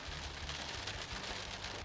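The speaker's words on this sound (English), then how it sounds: "More rain." Rain falls along the desert track of El Camino del Diablo, a steady, faint patter that spreads into an even hiss. It is brief, with no voices.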